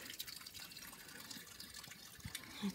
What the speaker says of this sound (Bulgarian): А ето я и самата чешма Малинарката.